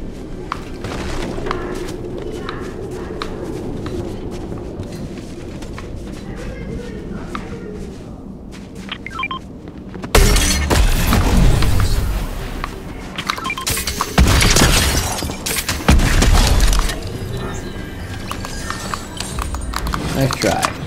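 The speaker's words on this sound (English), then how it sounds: "That sounds like it's shockwave launcher." Shockwave launcher blasts in Fortnite, two heavy booming bursts in the second half after quieter clopping footsteps, with a voice talking throughout.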